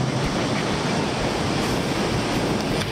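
Broad surf roar at the Mavericks reef, a steady wash of breaking ocean waves with some wind noise, loud and continuous with no voices.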